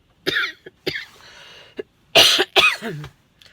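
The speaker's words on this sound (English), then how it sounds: "I'm struggling with this cough." Several sharp, harsh coughs from a person troubled by dry air on a Portuguese farm come in uneven bursts, close to the ear, with a short throaty clearing between them.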